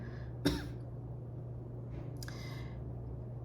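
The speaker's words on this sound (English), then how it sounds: "when I did that cough, I felt that cough." Two short coughs, a sharp one and then a softer one a moment later, over a steady low hum in a quiet room.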